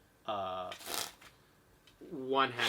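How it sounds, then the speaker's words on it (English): Playing cards riffle and snap in a one-handed shuffle during a close-up magic card trick, two short bursts of crisp fluttering, with someone talking at the start and end. "I've already simulated that I can do one-handed shuffles"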